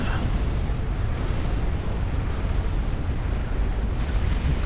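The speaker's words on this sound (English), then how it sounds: "Explosion." A massive explosion in the strategy game Supreme Commander: Forged Alliance rolls out as a dense, sustained roar of deep rumbling and crackling debris, loud and unbroken throughout.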